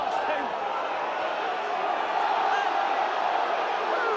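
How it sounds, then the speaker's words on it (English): Crowd at a Warrington versus Hull FC rugby league match roaring steadily at a big high tackle, a broad sustained stadium swell with no clear peaks, loud and continuous throughout. "roars from the crowd"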